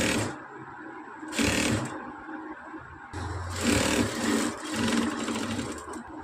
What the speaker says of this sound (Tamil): திருப்பி சுற்றிலும் நம்ம வந்து தையல் போட்டு எடுத்துக்கலாம்.